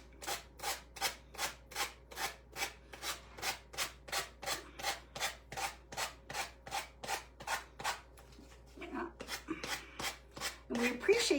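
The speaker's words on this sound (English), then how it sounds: "Give me a second to just sand this off." A painted wooden craft board being hand-sanded in quick regular back-and-forth strokes, close and rhythmic for about eight seconds, then a pause before rougher, louder rubbing resumes.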